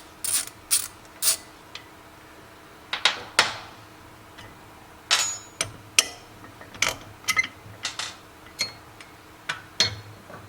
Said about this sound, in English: using a 3/8 inch wrench and socket and undoing this top nut